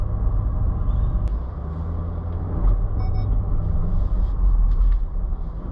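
A Range Rover L322 with the 4.4 TDV8 diesel pulls away through snow, its engine giving a steady, loud low rumble throughout with no wheel spin, brief faint clicks and knocks above it, and no voices.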